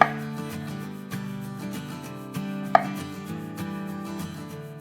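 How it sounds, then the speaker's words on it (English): Knife chopping peeled potatoes into cubes on a cutting board, a series of irregular close knocks over a few seconds, heard beneath steady background music with no talking. "So I need to cut these into cubes."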